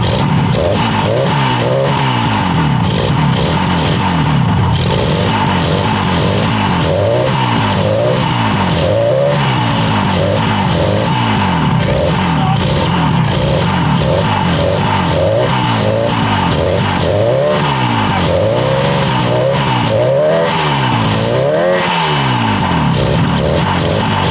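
A purple 1967 Yamaha YR1 motorcycle engine runs steadily with both cylinders firing, its throttle blipped into repeated revs that rise and fall. The engine is close and loud, alone throughout with no voices.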